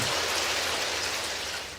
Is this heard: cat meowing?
no